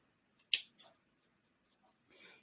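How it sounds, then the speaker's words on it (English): Scissors trim a tiny yarn pom-pom for a doll. There is one crisp, close snip, a softer snip right after, and a faint snip near the end, with silence in between. "you're going to take your scissors and just give it a little haircut"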